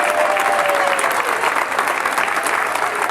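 Sustained applause from an audience at a political speech, dense steady clapping filling the room at a fairly loud, even level.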